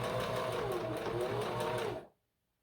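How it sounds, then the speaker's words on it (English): A sewing machine stitches through layered fabric in a steady, continuous motorized whir, close and moderately loud, running for about two seconds before stopping abruptly. "you're going to make sure that you keep these other layers out of the way as you sew."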